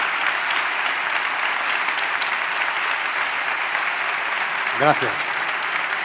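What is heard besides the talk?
audience applause at literary café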